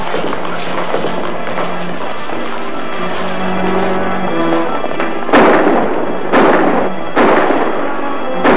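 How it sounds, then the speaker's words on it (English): Three sharp, loud gunshots ring out in a 1945 western film after a tense stretch of musical score, each blast distinct and spaced about a second apart. "Gunshots."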